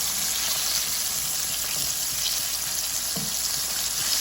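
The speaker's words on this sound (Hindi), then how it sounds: "ये देखें, हमारा चिकन जो है वो फ्राई हो गया है।" Chicken pieces frying in hot oil on a medium-high flame, a steady dense sizzle that stays loud and unbroken, with a faint clink of a utensil near the end.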